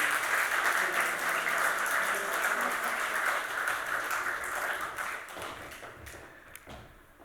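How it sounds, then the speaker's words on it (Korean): Congregation at a Korean church Sunday service in Chile applauding in blessing for children, a sustained wash of clapping that fades out toward the end. "이 아이들을 위하여 축복의 박수로 함께"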